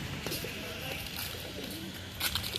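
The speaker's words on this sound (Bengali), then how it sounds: "সিরাজি কবুতর, বাংলা কবুতর, অনেক কবুতর আছে" Sirazi and Bangla pigeons coo softly at Durga Sagar pond, with low repeated burbling calls close by over a light outdoor background.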